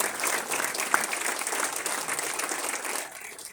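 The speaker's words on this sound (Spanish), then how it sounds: "Give a hand to the Lord." A church congregation applauds during a bilingual Spanish-English sermon, steady sustained clapping from many hands that fills the room and eases off slightly toward the end, with no speech over it.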